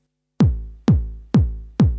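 Four deep, booming kick drum samples played on an MPC drum pad, evenly spaced and punchy, each decaying quickly with no other sounds around them.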